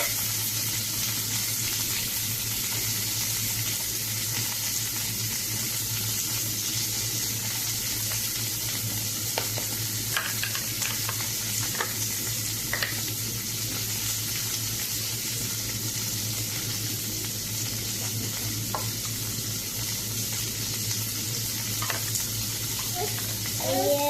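Onions fry in a pan with a steady, even sizzle that runs throughout, joined now and then by faint stirring clicks.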